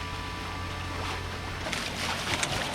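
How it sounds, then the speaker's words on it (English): Sailboat motor sailing with its motors running on calm water in a busy shipping lane, a steady low engine hum under soft water wash and light wind noise, fairly constant throughout. "So I've got the motors on as well"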